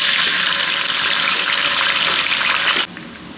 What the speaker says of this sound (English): now I'm just going to flash fry the green beans for about 2 minutes